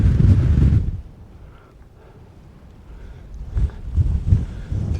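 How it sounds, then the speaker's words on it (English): Wind buffets the microphone on the open summit of Sail Fell in the Lake District, loud gusts at first, then easing to a low rush before gusting strongly again. "Pretty breezy."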